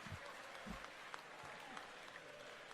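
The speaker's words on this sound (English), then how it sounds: "And then the crowd gets into a Willie Willie." A live radio-show crowd applauds and chants in rhythm, heard faint and distant as a continuous wash of clapping and voices.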